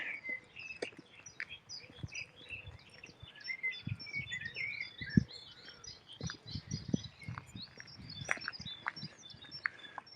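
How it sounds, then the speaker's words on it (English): Many birds of mixed species chirp and sing continuously on a hillside on a sunny morning, with varied overlapping calls at moderate distance and occasional footsteps on the path below them. "Listen to all that bird song."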